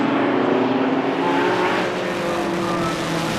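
Race cars of the Dunlop Tuscan Challenge sweep past at Silverstone under braking for Brooklands, a loud, steady engine roar with a sustained high whine that holds throughout without a break.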